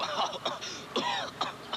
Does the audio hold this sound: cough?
yes